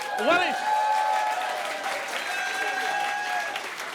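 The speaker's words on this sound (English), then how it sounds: "A round of applause for yourselves in the audience" Studio audience applause at a New Zealand political panel show in Wellington, a sustained wash of clapping with a voice calling out over it at the start and scattered whoops.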